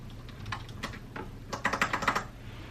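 Computer keyboard keys clack and tap in an uneven burst, a few scattered presses followed by a quick run of close, crisp keystrokes while the keyboard is being cleaned.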